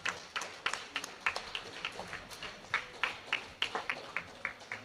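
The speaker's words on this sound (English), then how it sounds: "A big round of applause." An audience claps for the chapter growth team at a business chapter launch in Bengaluru, the applause sparse and rhythmic, like a handful of people clapping steadily and fairly close.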